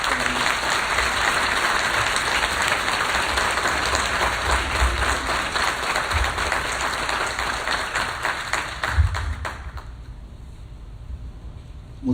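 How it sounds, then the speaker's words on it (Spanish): An audience at a lecture on migration as a human right claps loudly for Father Solalinde. The dense, sustained applause holds for about ten seconds, then quickly dies away. "Les pido por favor un fuerte aplauso para el padre Solalinde."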